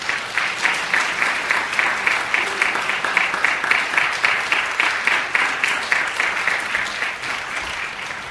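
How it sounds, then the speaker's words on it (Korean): Church audience applause, a steady round of clapping with a faintly rhythmic pulse, moderately loud and close, continuing evenly throughout before easing slightly at the end. "박수만 해주시면 감사합니다"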